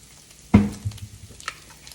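Sausage gravy with black pepper stirred in a pan, one sharp scrape and sizzle followed by faint bubbling and a second light clink, close and fairly quiet.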